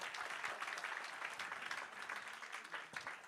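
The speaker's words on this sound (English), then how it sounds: "Clap one more time." Audience applause at a community partnership breakfast, a steady wash of many hands clapping through the whole stretch, fairly even in level with no voices on top.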